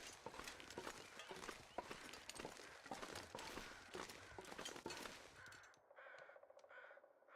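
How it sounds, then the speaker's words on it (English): Crows caw in the survival game The Long Dark, heard among crunching footsteps and loud rustling movement, then clearer and more isolated once the steps stop near the end. "I hear crows in that direction."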